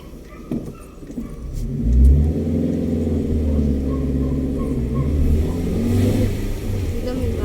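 Motorcycle engine revving as it climbs uphill on Kennon Road, a steady droning rumble that swells partway through, with people talking over it.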